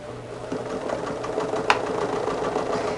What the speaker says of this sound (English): I'm just going to sew along from those guidelines we made earlier, from one corner to the other